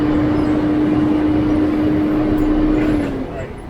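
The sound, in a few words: Volvo truck engine revving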